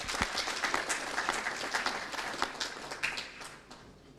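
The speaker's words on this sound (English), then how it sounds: "Big round of applause." Sustained applause from a conference audience at an energy efficiency and electric mobility event in Uganda, many hands clapping at once in a full, even roar that fades slightly toward the end.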